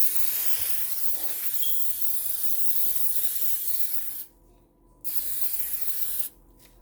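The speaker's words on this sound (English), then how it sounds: "I'm going to go ahead and spray my pan." Cooking spray hisses from an aerosol can onto a clear glass baking dish in two long, steady bursts, close and loud, separated by a short pause and ending abruptly.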